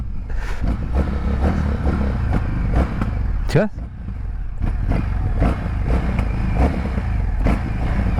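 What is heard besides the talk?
Indian FTR Sport motorcycle engine running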